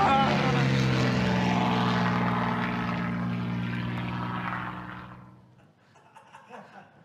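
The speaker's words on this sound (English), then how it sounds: "An airplane ran into her eyes!" A propeller airplane drones loudly overhead, holding steady before fading away, leaving faint chuckling and small sounds at the end.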